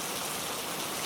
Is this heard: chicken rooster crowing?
no